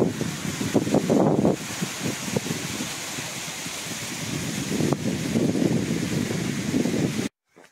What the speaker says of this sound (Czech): fouká vítr, ale je teplo